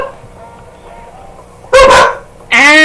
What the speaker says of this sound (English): hold on after they stop barking